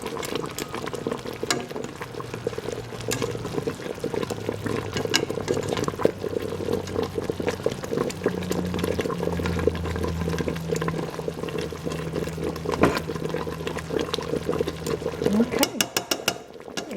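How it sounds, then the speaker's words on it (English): Pork chops simmer in a pan on the stove, a steady low bubbling and sizzling with occasional clinks of utensils, while someone talks over it. "my pork chops in and just let those simmer for about 15 minutes"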